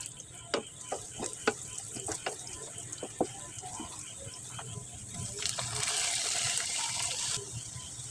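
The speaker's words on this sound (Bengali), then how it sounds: "ভুনা করার জন্য সব মশলা দিয়ে দিয়েছি, নেড়ে চেড়ে কষিয়ে নেব" Onions and spices are stirred in a pan for bhuna in a home kitchen, with soft sizzling and scattered spoon scrapes and clicks, followed by a louder rush near the end.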